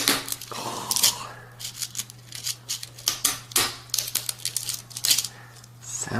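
Cutting through a hard rattlesnake tail rattle on a table, a series of crisp crunching snips and crackles in irregular bursts over a low steady hum, close and fairly loud.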